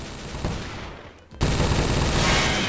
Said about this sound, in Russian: Давай будем вот так стрелять по теням.